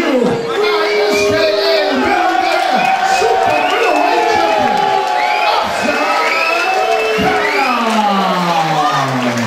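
A loud crowd at a Muay Thai fight night roars and cheers after a TKO stoppage, with whoops, shouts and sustained yelling filling the hall, and applause mixed beneath the voices.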